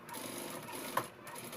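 Sewing machine stitching a Punjabi dress, a faint steady whirring with one sharp click midway, and no voices.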